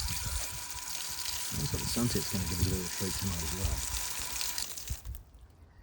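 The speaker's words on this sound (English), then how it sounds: "Look at that water just cascading down there." Water pours and splashes steadily down a tree trunk in a garden, a continuous rushing trickle with someone talking over it.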